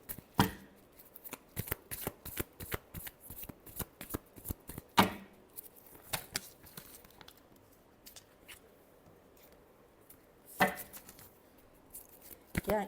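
Tarot cards are shuffled close up in rapid riffling bursts of crisp papery flicks, a few louder riffles standing out among the quieter ones, with no talking.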